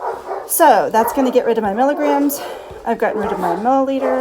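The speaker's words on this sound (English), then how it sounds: "you can probably hear there's a dog fight in the background" Dogs fight in the background, with yelps, whimpering yips and barks running continuously beneath a person talking close up.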